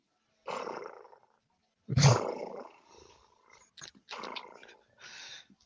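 A video game creature gives a series of rough, rumbling purrs and growls in separate bursts, the second one deep and loud, the rest softer.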